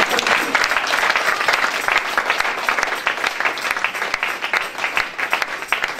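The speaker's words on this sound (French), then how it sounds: "Est-ce qu'il y a quelqu'un qui peut acclamer?" An audience in a French-speaking hall, at what looks like a church gathering, breaks into sustained applause. Dense clapping with some cheering rolls steadily and loudly throughout.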